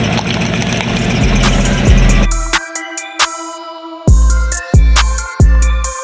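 Chevrolet 5.3 V8 with a dropped lifter, loud and close, shifting from a rough rumbling idle into sharp repeated ticking knocks and several heavy thumping surges, with no talk over it.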